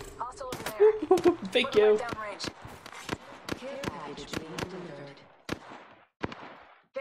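Gunfire in the video game Apex Legends: a series of sharp, irregular shots crack out over several seconds, some in quick pairs, with a brief voice speaking early on.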